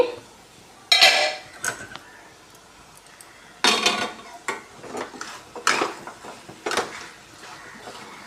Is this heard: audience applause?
no